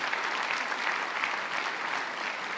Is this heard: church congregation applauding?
yes